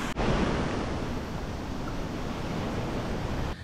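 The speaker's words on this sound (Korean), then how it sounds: "근데 파도가 진짜 세긴 셉니다." Strong ocean waves break and wash continuously along a beach by eroded tetrapod breakwaters in Taitung, Taiwan, loud and close, with heavy wind buffeting the microphone throughout.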